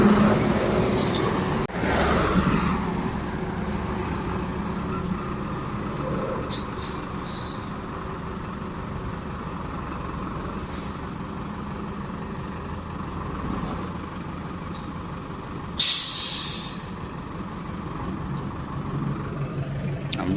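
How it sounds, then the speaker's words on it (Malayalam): A Tata pickup tow truck arrives to collect an electric car stranded on a bridge. A steady low rumble of road traffic and engine runs throughout, with a sharp hissing burst, like an air brake, near the end. "ഇതാണ് ടാറ്റ കമ്പനി നമുക്ക് വേണ്ടി അയക്കുന്ന പിക്കപ്പ് വാഹനം."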